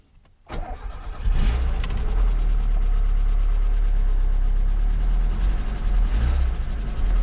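A VAZ 2105 car engine cranks briefly, catches and starts, then settles into a steady, loud, low idle rumble close by.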